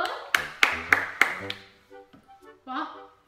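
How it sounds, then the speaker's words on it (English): A person clapping their hands during a casual whisper challenge game, four or five sharp claps in quick, even succession, close and fairly loud, followed by quiet murmured voices. "Me clapping."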